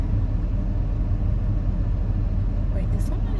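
A car engine runs nearby with a steady low rumble on an icy winter day, continuous throughout, with a brief faint high chirp near the end.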